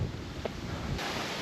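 Strong wind gusts buffet the microphone on a remote country road, a steady loud rumble throughout that surges sharply partway through.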